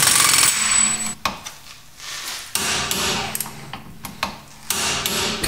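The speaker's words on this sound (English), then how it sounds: "Let's get it snugged up with the impact here." Impact wrench snugging a wheel hub nut during a stuck wheel bearing job, heard as several loud rattling hammering bursts separated by short pauses, close up in a workshop.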